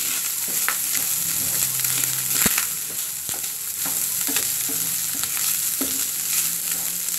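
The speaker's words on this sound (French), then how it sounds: "On va rajouter un peu de gingembre et on mélange." Cooked rice and meat being stirred with ginger in a frying pan, a continuous sizzle with scraping and soft knocks of the utensil, close up and steady, no voices.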